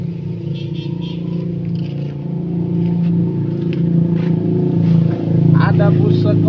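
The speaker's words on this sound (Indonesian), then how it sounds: "Ada bus sekolah, teman-teman." A school bus drives past, its engine drone and road rumble swelling louder toward the end as it nears, with light rattles and a voice briefly audible at the close.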